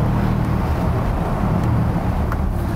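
A Bentley GTC with an 8-speed ZF-based gearbox powers out of a corner, its engine a loud, dense, unbroken roar filling the whole stretch with no speech over it.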